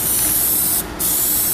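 Spray paint in gunmetal hisses steadily onto car wheels in one loud, close continuous burst, briefly pausing before resuming, with no talk.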